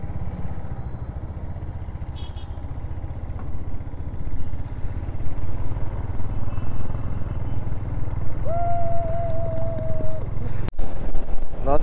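A motorbike rides ahead on the road on a cold day, its engine droning steadily and growing a little louder, with a brief whine late on.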